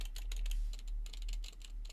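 Quick typing on a Deck Hesium Pro mechanical keyboard with blue switches and lubricated stabilizers: a rapid run of crisp, clicky keystrokes, close and fairly quiet, in uneven bursts.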